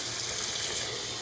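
Water rinsing sediment from a RovSun water distiller: a steady, dense rush of flowing water, close and constant throughout, with no talking.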